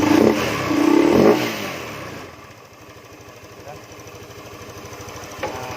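A Beat FI motorbike engine with weak power and a rough sound is started. A voice talks briefly first, then the engine settles into a steady, close, rhythmic idle thrum.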